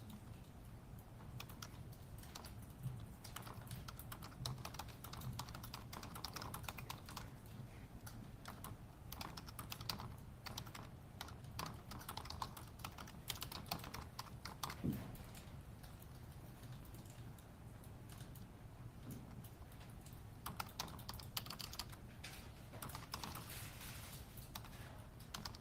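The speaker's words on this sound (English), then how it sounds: "That is some loud typing." Fast, loud typing on a computer keyboard clatters steadily throughout a murder trial courtroom, with a dense patter of key strikes and a faint room hum underneath.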